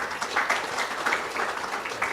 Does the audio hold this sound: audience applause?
yes